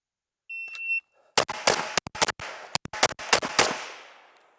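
Rapid pistol shots fired at a comfortable pace during a Velox shooting drill while moving, about a dozen sharp cracks in quick irregular bursts after a timer beep, close and loud with ringing decay.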